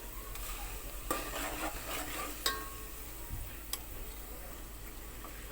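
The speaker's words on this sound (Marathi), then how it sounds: "हे वाटण तेल सुटेपर्यंत परतवून घ्यायचं" Ground masala paste sautéing in hot oil for a Maharashtrian amti, a steady soft sizzle with occasional light ticks of a spoon scraping the pan, no voices.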